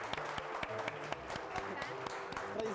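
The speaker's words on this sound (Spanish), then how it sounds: "¡Aplausos!" Studio audience applause on a Chilean TV show as a guest is welcomed, clapping and cheering mixed with loud music beats and a host's voice over the top, fairly close and lively.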